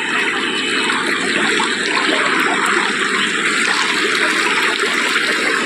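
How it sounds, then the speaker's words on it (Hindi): Water of the Sukri river flowing among green surroundings, a loud, steady broadband rush with no breaks, heard up close. "चारों तरफ हरियाली हरियाली और बीच में पानी, नदी है ये सुकरी नदी"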